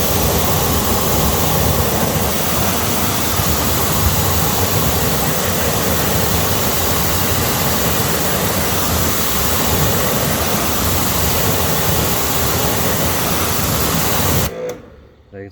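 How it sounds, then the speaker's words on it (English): A strong water spray rinses acid-free 3-in-1 wheel cleaner off a car wheel, giving loud, continuous broadband hissing that cuts off abruptly near the end. "Let's go ahead and rinse it off."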